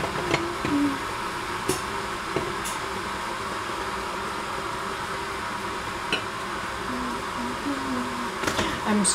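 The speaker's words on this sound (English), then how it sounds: "I apologize for the noise of heating some water" A steady hissing, roaring noise like water heating on a burner fills the clip, with a few faint clicks and taps over the constant drone.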